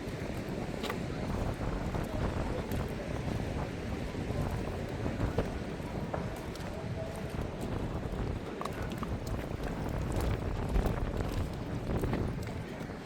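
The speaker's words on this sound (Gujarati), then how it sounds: "મસ્ત પવન ઠંડો આવે છે" Cool wind at Nagoa beach rushes constantly against the microphone, a broad blustery roar with brief gusty bursts, steady and close throughout.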